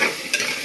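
A spoon stirs a tomato mixture for restaurant-style chole curry in a pan, a brief close scrape with soft sizzling beneath.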